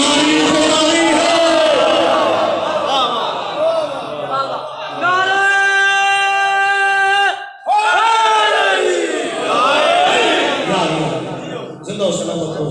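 At a Shia majlis, a large gathered crowd roars religious slogans in unison, a loud sustained chant with a sharp break partway through, then resumes its full-throated shouting.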